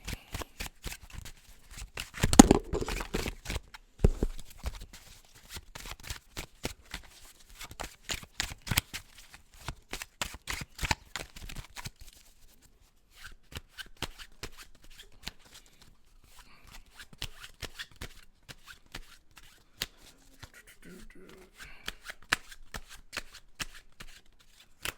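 Tarot cards shuffled repeatedly in a long run of rapid riffling flutters and soft slaps, close and steady, with a faint voice in places.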